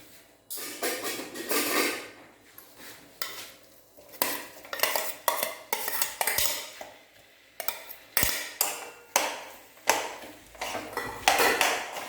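Spoon scraping and clinking against a pan while stirring mashed potatoes, frozen peas and chili into a dosa filling: a steady series of repeated close metallic scrapes and knocks, with no talk.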